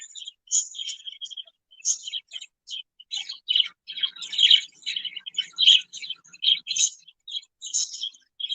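A pet bird chirps and squawks indoors in quick bursts of bright, high calls, close and fairly loud, with short pauses between the phrases and no talking.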